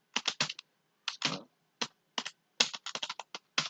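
Typing on a computer keyboard into a blank document, bursts of quick close key clicks in short irregular runs separated by brief pauses.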